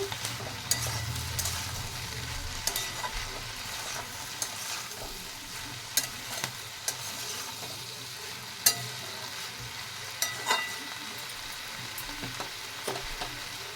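Vegetables with turmeric and chili powder are stirred in a hot pan, a soft continuous sizzle broken by scattered scrapes and taps of the spoon against the pan, heard up close and fairly quiet.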